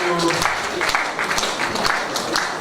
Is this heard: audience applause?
yes